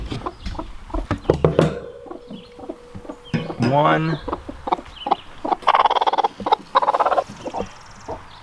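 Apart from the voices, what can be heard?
broody hens clucking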